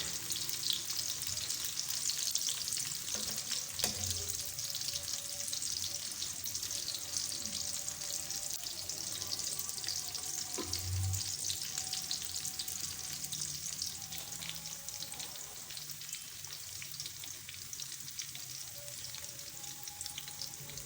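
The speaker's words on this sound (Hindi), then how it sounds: "एक बड़े साइज़ का प्याज चॉप करके फ्राई करने के लिए रख दिया है" Chopped onion frying in ghee in a kadai gives a steady, loud, close sizzle that runs unbroken throughout, with a few faint stirring knocks underneath and no talking.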